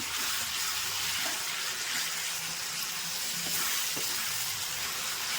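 Tomatoes sautéing in a pan for a banana-stem dried-fish curry, a steady soft sizzle and frying hiss with faint stirring scrapes, fairly quiet and continuous.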